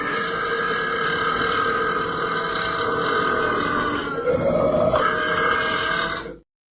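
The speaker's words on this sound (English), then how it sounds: "somebody also asked for the belch" A single long, loud belch rumbles on for several seconds, shifting pitch toward the end before it cuts off abruptly.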